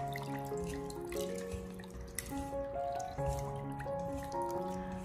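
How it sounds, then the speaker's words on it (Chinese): Flour-coated chicken wings get rubbed clean by hand in a basin of water, with continuous splashing, dripping and sloshing close by and no voices. "然后再次的下手给它搓洗一下，把鸡翅上面的一些面粉给它清理干净"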